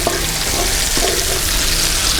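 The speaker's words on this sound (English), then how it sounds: "I'm just going to cook this onion on a low to medium heat for 2 to 3" Onion cooking in a pan on low to medium heat for a restaurant-style chicken korma, giving a loud, even, continuous sizzle that fills the whole stretch without pauses or talk.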